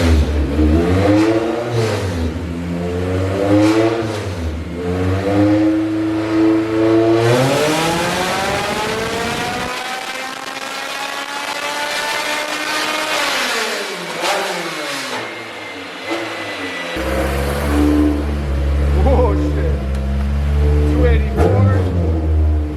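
A K20/K24 naturally aspirated engine in a car on a dyno revs hard through repeated climbing sweeps, holding a high steady whine before dropping back and rising again, loud and close, with voices talking over it.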